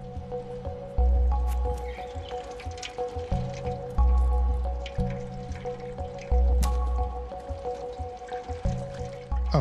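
A cat laps water in the video game Stray, giving repeated soft wet squishing and dripping sounds in a steady rhythm, with game music tones running underneath and no talking.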